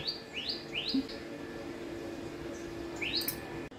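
Birds chirp in short rising tweets, a quick series of three followed by a pause and a couple more, set against a quiet outdoor background.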